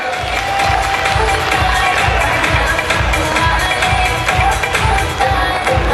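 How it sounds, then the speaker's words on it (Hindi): A crowd at a motivational speaking event claps and cheers loudly and continuously, a dense wash of applause with shouts close around, steady throughout. "तो मैं चाहूंगा मेरे गुरु के लिए और मेरी दमदार जैसी टीम के लिए एक बार जोरदार तालियां।"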